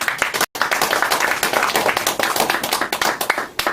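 An audience at a lecture on the founding of the Republic of Korea claps steadily, a dense crowd of hands filling the room for a few seconds with only a brief break early on.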